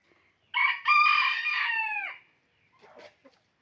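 A rooster crows once, loud and close, a drawn-out cock-a-doodle-doo, followed by quiet and a few faint scratchy sounds.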